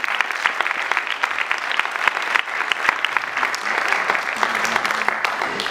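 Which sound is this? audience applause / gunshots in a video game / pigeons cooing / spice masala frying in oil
audience applause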